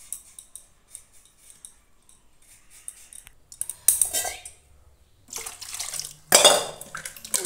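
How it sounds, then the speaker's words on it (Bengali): Hog plums (amra) are washed by hand in a bowl of water, with intermittent splashing, sloshing and clinking bursts up close, growing louder toward the end. "এরপর আমড়াগুলোকে আমি ভালো করে একটু ধুয়ে নিলাম।"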